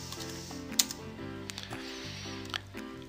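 Several sharp keystrokes on a computer keyboard as a number is typed, sparse and fairly close, over a steady humming tonal background.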